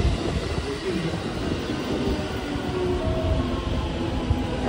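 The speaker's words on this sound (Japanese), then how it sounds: "3番乗り場に電車が参ります。" A JR 223 series 2000 train rumbles and clatters into Ishiyama Station, Japan, wheels grinding on the rails with faint squeals, steady and close throughout.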